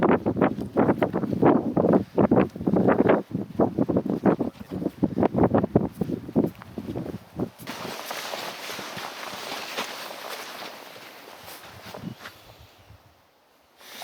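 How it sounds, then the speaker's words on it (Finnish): Wind gusts buffet the microphone outdoors on an overnight hike in Tiilikkajärvi national park in summer, first in loud, choppy bursts, then as a steadier, breathy rush that fades toward the end. "Taas tuulee kyllä."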